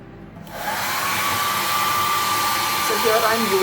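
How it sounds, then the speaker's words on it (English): Hair dryer switching on and blowing steadily to dry a paint coat on a glass bottle, a loud, continuous whooshing whine held close. "Here I am using a hair dryer to dry the coat to speed up the process."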